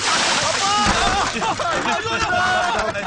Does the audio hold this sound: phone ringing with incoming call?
no